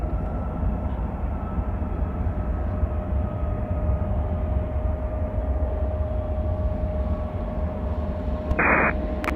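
A jet climbs away from runway 10 left at Chicago O'Hare, a steady broad roar that holds for the whole stretch, heard from a distance, with a faint tonal hum running beneath it and a brief radio blip near the end.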